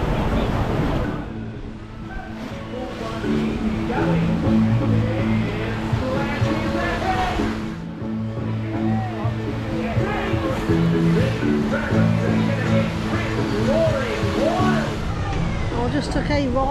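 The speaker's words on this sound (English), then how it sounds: "Going to be our first ride on the Congo River Rapids of the season" Rushing, churning water from the Congo River Rapids water ride, a steady loud wash with splashes, voices talking over it throughout and a brief dip in the noise partway through.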